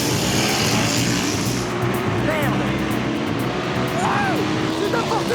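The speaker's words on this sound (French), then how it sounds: "Le moteur s'emballe et la moto sautille à l'accélération." A Kawasaki Z900 RS motorcycle roars loudly during a sprint drag-race run, engine note surging as it accelerates, with crowd and track noise blending into the steady, close din.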